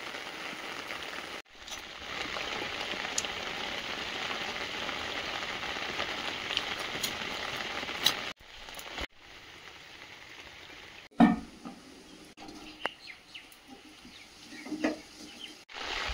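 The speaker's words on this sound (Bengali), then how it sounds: "বৃষ্টিটা কন্টিনিউ হয়ে যাচ্ছে," Steady rain falls in a garden setting, a continuous broadband hiss that holds for several seconds, then drops, pauses and returns softer with scattered drips and small clatters.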